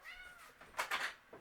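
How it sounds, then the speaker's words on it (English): A house cat meows to be let outside, a few short rising cries close by, the loudest pair near the middle and a softer one at the end. "my little kitty cat wants out"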